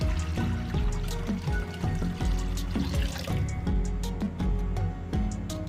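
Water pours steadily into a cooking pot or wok, roughly 2.5 litres, while sweet rice is being prepared, giving a continuous close splashing stream with no talking.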